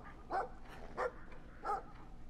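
A dog in the video game Brothers: A Tale of Two Sons gives three sharp barks spaced about half a second apart, moderately loud over a low game backdrop.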